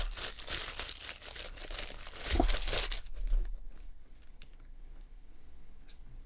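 Plastic packaging on a Ruination board game box crinkles and crumples up close, then drops to quieter handling with a few soft rustles.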